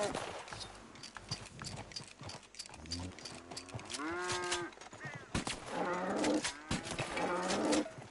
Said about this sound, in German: Die Kuh geht nachher auch schlafen.